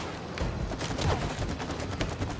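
Rapid, dense gunfire from shooting while riding in It Takes Two, a continuous crackle of quick bursts with no pause, close and fairly loud throughout.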